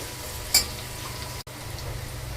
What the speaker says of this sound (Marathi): आता टाकते एक मॅगी क्यूब, चांगलं परतून घेते सगळं।